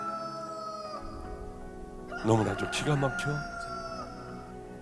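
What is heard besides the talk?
rooster crowing sound effect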